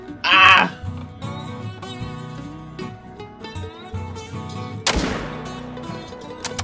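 A single loud rifle shot fired at an animal in the hunting game Call of the Wild, a sharp burst over background game music, preceded by a short animal bleat.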